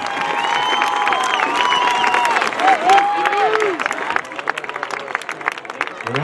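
Audience applause and cheering fill a high school homecoming football stadium after the Park City High Marching Band's halftime show, with steady clapping and scattered whoops while an announcer's amplified voice rings out over the crowd.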